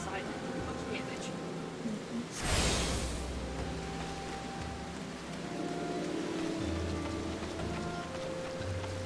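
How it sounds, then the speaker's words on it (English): Steady in-game rain in Final Fantasy XIV, a dense continuous hiss of falling water with a brief louder whooshing surge partway through, heard alongside low game ambience. "We're getting a lot of rain up here today."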